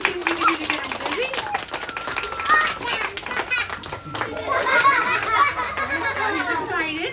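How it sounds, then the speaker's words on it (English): An audience claps hands at a rescued-bird show with macaws and parrots, steady lively clapping throughout, mixed with children's voices and crowd chatter. "if everybody wants to clap their hands, we can see what we can do to get him busy"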